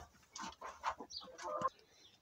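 Several hens cluck in short bursts inside a farm shed, with a rooster nearby among them; the calls come in close, irregular clusters at moderate loudness.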